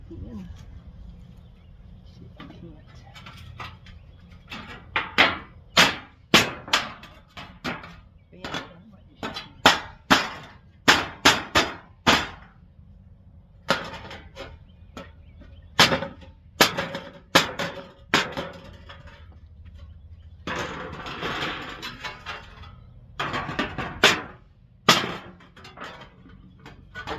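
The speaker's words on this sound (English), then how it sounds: "Hammer again." A hammer strikes metal over and over at a makeshift coal forge, sharp ringing blows in irregular bursts with pauses between, close and loud, with brief stretches of rattling and scraping.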